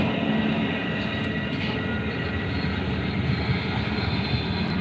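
A Pacific Surfliner passenger train passes as a steady, fairly loud broadband roar and rumble that holds throughout, with no talking.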